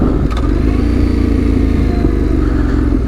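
An older 2.7 dirt motorcycle ridden through the remote Washington backcountry drones loudly and continuously with a steady engine rumble and brief clattery bumps, close to the rider.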